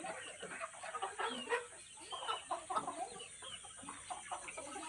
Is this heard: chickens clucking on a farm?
yes